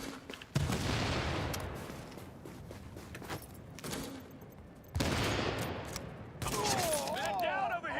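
Bursts of game gunfire from The Division, with several dense volleys of rapid shots, some mechanical clatter and electronic tones, loud and close, with a voice faintly in the mix.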